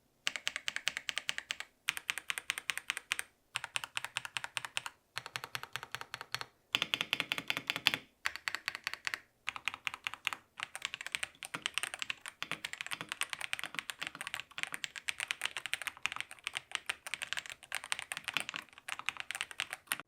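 Rapid typing on a cheap mechanical keyboard clatters close up in dense bursts of key clicks with brief pauses, alone and fairly quiet.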